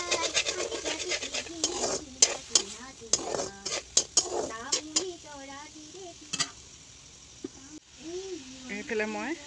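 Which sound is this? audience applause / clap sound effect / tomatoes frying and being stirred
tomatoes frying and being stirred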